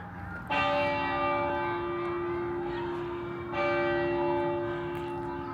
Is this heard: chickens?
no